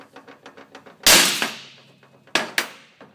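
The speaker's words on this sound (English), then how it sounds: "that took a beating and printed the texture of the hammer" Sharp, loud hammer blows strike a hard plastic part, one big hit followed by two quicker ones, after a run of light rhythmic ticking.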